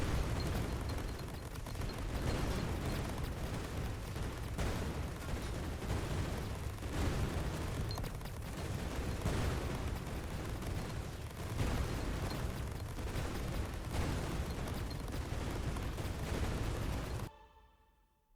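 Grenade blasts and gunfire in the roguelike survivor game Greedland, a dense, continuous barrage of booming explosions layered one over another for about seventeen seconds before cutting off abruptly.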